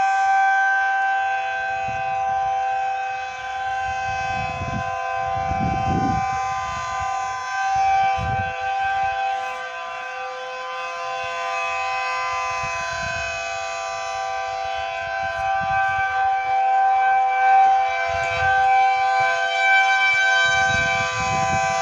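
A loud rotating civil defense siren, a mini P10, wails steadily, its pitch held high while the sound swells and fades as it rotates, with low rumbling underneath.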